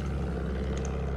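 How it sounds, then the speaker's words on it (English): Bomber aircraft approaching in Battlefield 1, a continuous deep droning engine rumble that fills the short clip at a steady level, with faint higher tones above it. "Incoming bombers."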